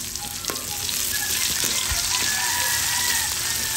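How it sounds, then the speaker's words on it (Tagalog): Onions and garlic sautéing in a pan for chicken pochero, a steady close sizzle and crackle of frying throughout with a few faint clicks from stirring. "Gisa-gisahin lang natin sandali hanggang sa maging translucent na yung ating onion."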